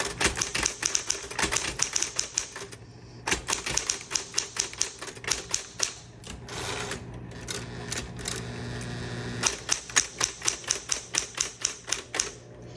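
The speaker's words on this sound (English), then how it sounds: "So let's just turn it on and I'm gonna type for you." A 1960s Smith Corona Electra 120 electric typewriter typing in quick bursts of crisp, close keystrikes, pausing briefly between runs, with a steady motor hum underneath.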